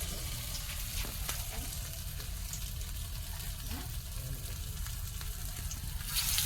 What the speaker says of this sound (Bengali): এখন শুধু ভেজে তোলার পালা